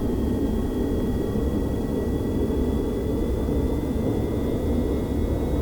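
Me 262 jet in a flight game rolling down the runway for takeoff, a steady, loud engine roar with constant rumble and a faint high whine throughout, no talking.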